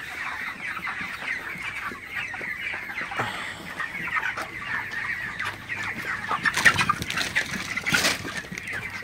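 A flock of broiler chickens on a poultry farm clucks and chatters continuously, many birds overlapping at once, with a few sharper, louder squawks standing out near the end.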